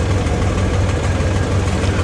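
A JCB backhoe engine runs steadily at a road construction site, a loud, close, continuous low rumble at idle with no break and no voices.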